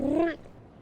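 A cat gives a single short, clear meow close by, lasting about a third of a second before quiet returns.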